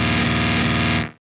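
Synth pushed through a drive pedal and a metal guitar amp and cab, a thick, saturated wall of fuzzy distortion with a churning low end, held steady before cutting off.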